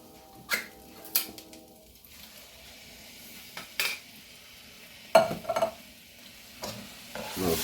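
Canned diced tomatoes being stirred in a pan for a pantry pasta, giving a few scattered scraping and clinking strokes against soft background sizzle, with quiet gaps between them.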